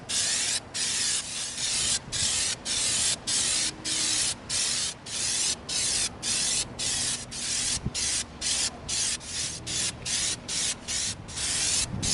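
Repeated short bursts of spray paint hiss in a steady rhythm, about two per second, close and loud with brief gaps between passes, spraying an EVA foam helmet on a wood stand.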